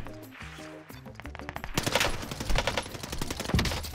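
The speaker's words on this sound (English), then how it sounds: "Except mine's a fully automatic sniper." A fully automatic sniper rifle fires in Call of Duty Warzone, starting with a few spaced shots, then breaking into a rapid, loud burst of repeated cracks over game sounds.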